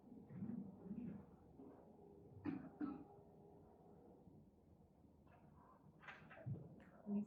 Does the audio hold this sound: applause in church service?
no